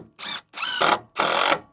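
A power drill drives a new screw into wood in a loft, three close whirring bursts separated by short pauses, each growing slightly louder and strained.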